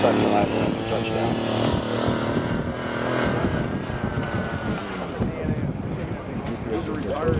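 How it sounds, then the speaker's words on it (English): A 1944-built P-51 Mustang at a WWII airshow, its propeller engine rumbling and fluttering steadily as it comes in to land, fairly loud and continuous with a little wind noise. "Listen to the engine as he pulls the back line and touchdown."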